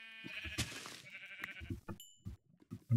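Sheep bleating in the video game Minecraft, several short bleats in quick succession, fairly clear and close, with other brief game sounds between them.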